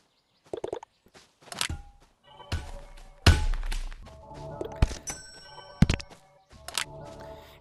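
A crowbar striking a bag, several separate dull thunks and thuds at uneven intervals, close and fairly loud with quiet gaps between hits.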